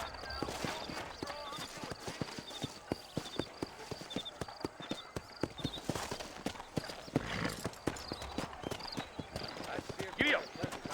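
Horse hooves clip-clop at a steady trot in the Red Dead Redemption video game, a continuous run of close, rhythmic hoof strikes with occasional snorts and brief voices over them.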